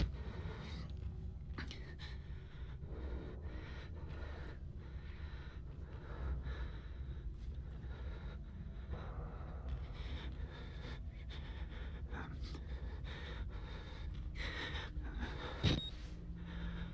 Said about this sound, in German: Der atmet so laut, man hört ja gar nicht was.